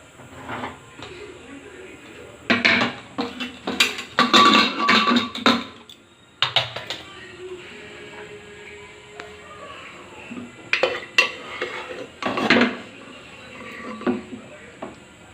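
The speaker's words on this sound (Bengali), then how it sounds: "এবার প্রেসার কুকারটা খুলে দেখব মাখানাগুলি কেমন সেদ্ধ হয়েছে।" A pressure cooker of boiled makhana (fox nuts) is opened in a home kitchen, with metal lid and pot clatter coming in several loud, close bursts separated by quieter handling.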